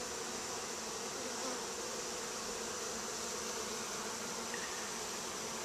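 Honey bees buzz on a hive frame, a dense, steady droning swarm heard close and continuous with no pauses.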